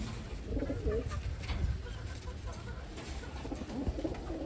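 Taiwan racing pigeons in a loft cooing softly over steady low background rumble, with a faint murmur of voices now and then.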